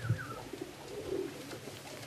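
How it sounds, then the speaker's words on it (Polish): Pigeons coo softly and faintly at a racing pigeon loft as the first birds arrive, with quiet outdoor background. "mamy tu pierwsze gołębie"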